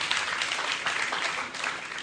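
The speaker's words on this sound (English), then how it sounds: "let's give a bigger round of applause" A steady patter of applause from a crowd at a debate, moderately distant and continuous throughout.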